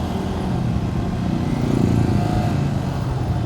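A Yamaha New Vixion Lightning motorcycle ridden through Balikpapan city traffic, its engine droning steadily and fairly loud while the gears are shifted with a rough, unsmooth change; the engine swells slightly mid-ride.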